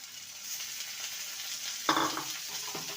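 Sizzling and stirring in a pan as sliced tomato goes into cooking lentils with gourd greens, a steady fry hiss with a louder burst of sizzle as the pieces drop in, close and alone.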